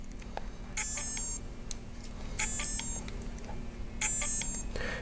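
An RC electronic speed controller in a TRX-4 crawler gives repeated high warning beeps for no radio signal, sounding in short clustered bursts at intervals over a low hum.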